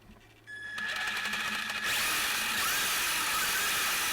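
A replacement electric motor in a Traxxas Slash 2WD RC car whirs up after a few clicks, building into a loud, high-pitched continuous whine that holds steady to the end.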